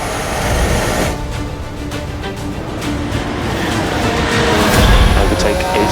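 Formula 1 cars racing wheel to wheel as Hamilton closes right up behind Norris, a loud, continuous engine roar with rising whine, under excited commentary.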